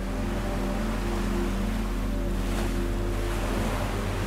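Ocean water washes and rushes around a fishing boat out in deep water, a loud, steady broadband surge mixed with wind buffeting the microphone and a low engine hum underneath, with no voices.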